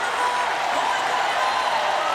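Stadium crowd at an athletics meet cheering after a race, a dense, steady roar of many voices spread wide and constant throughout.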